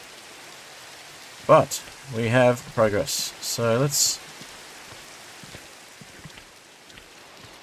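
Constant soft hiss of Minecraft rain patter fills the scene from start to finish, with someone speaking briefly over it in the first half.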